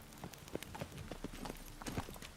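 Roach the horse's hooves in The Witcher 3 give a quick, irregular clip-clop of hoof strikes at moderate distance, several beats per second over a faint background.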